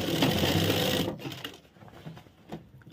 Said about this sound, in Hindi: यहाँ से सिलाई लगाना स्टार्ट करेंगे